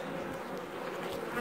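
Honey bees swarm around an open beehive, a dense continuous buzzing drone that fills the space close to the microphone, steady in loudness with no voices over it.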